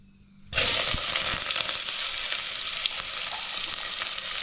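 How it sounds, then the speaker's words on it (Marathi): Onion, garlic and curry leaves hit hot oil in a heated pot for a tempering, bursting into a loud, steady close sizzle after a brief quiet moment and crackling on without pause. "आता मी देतो फोडणीला."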